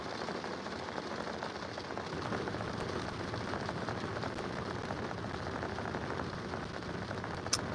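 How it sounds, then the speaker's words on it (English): Steady rain falls on surfaces outdoors, a dense even hiss with scattered drop taps, moderately quiet and alone without voices. "The rain is kind of relaxing."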